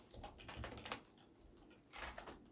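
Rapid, irregular keystrokes on a computer keyboard, clustered in two bursts with a short pause between, close and fairly quiet while a console command is typed for the Chrome dinosaur game.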